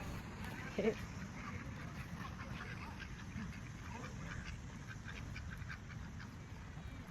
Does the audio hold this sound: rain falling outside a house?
no